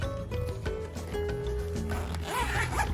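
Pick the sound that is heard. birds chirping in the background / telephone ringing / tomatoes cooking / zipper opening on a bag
zipper opening on a bag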